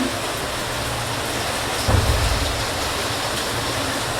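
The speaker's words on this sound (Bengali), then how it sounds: "অঝরে বৃষ্টি পড়ছে" Steady, heavy rain pours down continuously, with a brief low rumble swelling partway through, like distant thunder.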